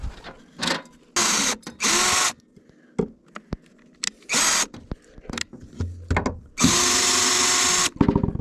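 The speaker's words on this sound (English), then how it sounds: "So I'm going to get a couple of screws in" Power drill driving screws into a board while rafters go up, several loud whirring bursts of varied length with quieter knocks and clatter between them.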